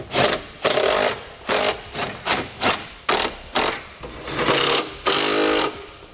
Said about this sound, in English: Now we'll use a 19mm socket. We want to tighten down all of our fasteners.